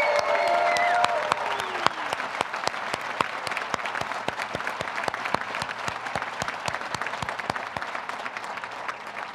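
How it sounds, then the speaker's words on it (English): A university architecture school commencement crowd claps in a large room, with a dense patter of applause and sharp individual claps standing out. A tonal sound fades at the start, then the clapping continues steadily with no talk. "So let's applaud them all collectively again now"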